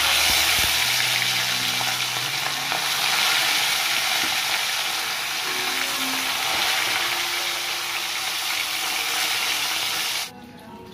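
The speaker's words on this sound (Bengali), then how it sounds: "তাহলে মাছ ভাজাটা বসিয়ে দিই আগে।" Fish frying in oil in a home kitchen gives a loud, steady broadband sizzle that holds for about ten seconds, then cuts off sharply near the end, with no talking.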